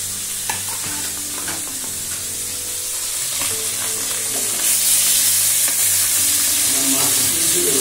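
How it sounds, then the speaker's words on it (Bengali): Fish frying in a pan in a home kitchen, with a steady sizzle running throughout and occasional clinks of a utensil against the pan, growing slightly louder toward the end. "মাছ ভাজা বসিয়ে দিয়েছি আমি"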